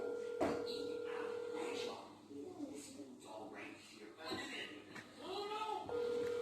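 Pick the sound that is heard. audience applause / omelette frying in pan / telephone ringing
telephone ringing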